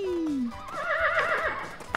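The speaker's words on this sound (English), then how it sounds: "Harry the horse loves galloping as quickly as he possibly can" A horse on a farm lets out a wavering neigh that trembles for over a second, loud and near, following a short descending tone at the start.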